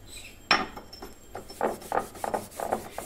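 Coconut oil is rubbed by hand onto a stone kharal, a mortar, giving a sharp scrape followed by a run of rhythmic rubbing strokes, close and moderately loud with no talking.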